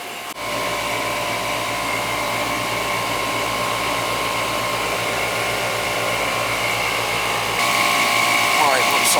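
An upgraded outdoor air conditioning unit that replaced an old R22 system runs steadily with a loud, even fan whoosh and a tonal hum, growing slightly louder near the end.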